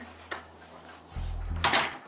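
A door opens and shuts nearby: a short click, a pause with a low hum, then a louder latch clunk and a thud.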